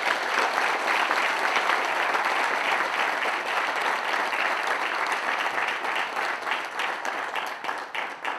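Crowd at an MMA event applauding the fighters, dense sustained clapping and cheering filling the whole stretch at a steady, fairly loud level.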